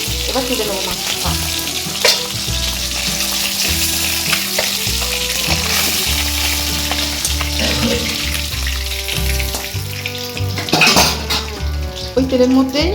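Fish heads rubbed with salt and turmeric fry in hot oil, giving a steady, close sizzle with faint stirring and utensil clinks, and a tonal background beneath it.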